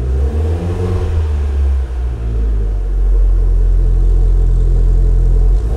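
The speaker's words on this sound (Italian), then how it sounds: "Mi piace questo borbottio ai eh, bassi, è bello." A Fiat 500 Abarth engine with aftermarket exhaust idles with a deep, burbling low rumble, swelling slightly louder and fuller partway through, steady and close with no talking.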